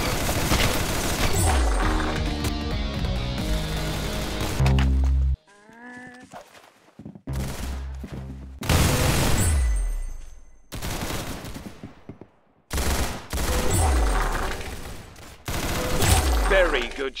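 Loud bursts of Roblox gunfire in rapid volleys, broken by short silences and booming impacts, with sharp shots starting and stopping in clusters at close range.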